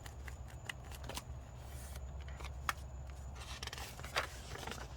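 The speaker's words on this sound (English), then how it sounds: "So now let's start just folding our pages in half." Paper pages being folded in half while making a junk journal from a 9x6 envelope: soft crinkling and sharp creasing rustles with scattered crisp snaps, close up over a low steady background hum, no talking.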